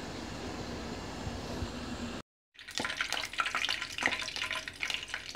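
Tofu rolls sizzle and crackle in hot oil, a steady frying hiss that cuts out briefly, then returns busier with pops and spatters.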